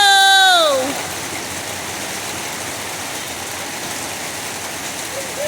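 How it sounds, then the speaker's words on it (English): Heavy rain pours steadily in Las Vegas, a dense continuous wash of falling water, loud and close; a brief vocal exclamation sounds at the start. "It is like pouring rain."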